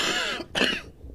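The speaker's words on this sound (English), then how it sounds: "pardon me, I got a cough." A man coughs twice in quick succession, close and fairly loud, a harsh throat-clearing burst followed by a shorter second cough.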